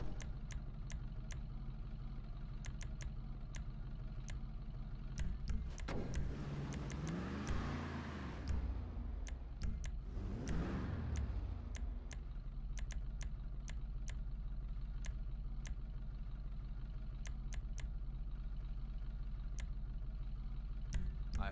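Virgo Classic lowrider from GTA Online, customized at Benny's Original Motorworks, idling steadily, then its engine revs loudly twice in swelling bursts before settling back to a rumbling idle, with no voices.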